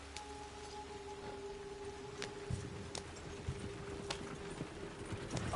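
A horse gallops in the video game Red Dead Redemption 2, with faint, quick hoof clops over a steady low background hum.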